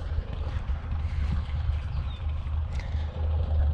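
A breezy wind blows across open farm fields, a steady, loud rushing roar with strong low-frequency buffeting against the microphone, continuous for the whole stretch with no voices.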